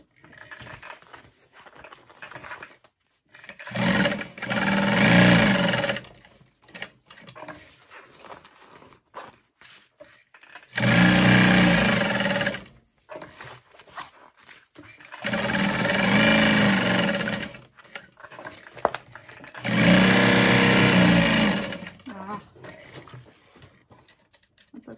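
A sewing machine stitches a backpack in four sustained bursts of loud, close, steady running, separated by quieter pauses with faint handling noise.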